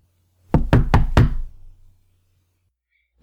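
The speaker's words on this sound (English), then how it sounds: "You were best knock louder." Four loud, evenly spaced knocks on a gate, close and alone, fading into silence.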